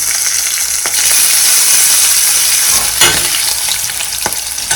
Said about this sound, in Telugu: ఆవాలు, ఇంకా జీలకర్ర కూడా వేసుకొని మొత్తం అన్నీ మంచిగా వేయించుకుంటున్నాను